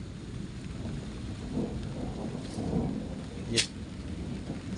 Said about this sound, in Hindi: और बिजली कड़क रही है, ज़बरदस्त बिजली कौंध रही है।